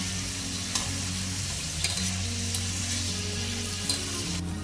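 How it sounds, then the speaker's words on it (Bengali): Potato wedges frying in oil over medium heat give off a steady, close sizzle with occasional stirring clicks, and a low hum sits beneath it. "তাই মিডিয়াম আঁচে রেখেই একটু সময় নিয়ে ভাজবেন।"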